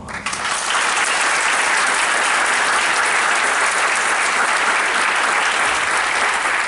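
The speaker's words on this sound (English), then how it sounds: "So please give them a round of applause." Audience at a panel discussion breaking into full applause, a dense, loud, sustained roar of clapping that starts abruptly and holds steady.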